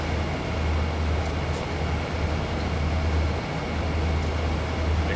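A heavy CSX freight train rumbles steadily in the Train Sim World Heavy Haul simulation, a continuous loud low drone with rolling mechanical noise and no pauses.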